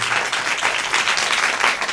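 Steady, dense applause from a crowd, many hands clapping at once with an even, sustained texture throughout.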